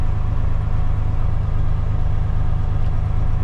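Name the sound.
Kenworth T800 tri-axle dump truck engine idling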